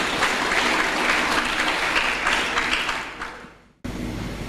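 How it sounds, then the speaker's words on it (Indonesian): An audience at a lecture on Javanese Islamic culture gives a speaker lively applause, a loud, dense clapping that swells, fades out near the end, then cuts abruptly into a new burst. "Tepuk tangan yang meriah untuk beliau."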